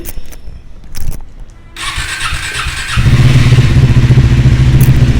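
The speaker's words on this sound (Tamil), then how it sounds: "இப்போ இந்த வண்டியோட சவுண்டை பாருங்களேன் திராட்டல் எப்படி இருக்குது அப்படின்னு சொல்லி பாருங்கள்" A Triumph Speed 400 motorcycle cranks, catches and settles into a close, loud idle, then the throttle is blipped and the engine holds a steady, throbbing rev to the end.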